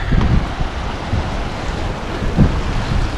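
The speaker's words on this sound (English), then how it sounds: "Looks like there's a waterfall right there." A waterfall near a bridge in Yosemite on the Tuolumne Meadows to Glen Aulin trail, a loud steady rushing roar of falling water mixed with wind buffeting the microphone, no talk.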